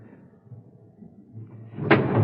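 A door at the rear of a train car opens with a loud latch-and-slam clunk near the end, following a stretch of low rumbling background.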